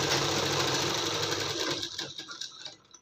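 A sewing machine runs continuously, stitching around the curved edge of an embroidered blouse, close and steady, then slows and stops in short bursts near the end.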